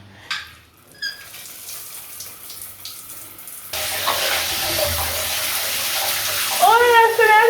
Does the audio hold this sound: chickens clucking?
no